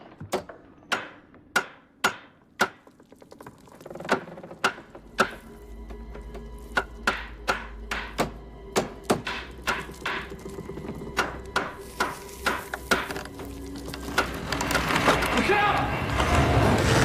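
A wooden mallet knocks a snug-fitting star into place, striking in a long series of sharp, close blows, a few slow at first and then quicker and steadier, with background talk and a rising murmur near the end.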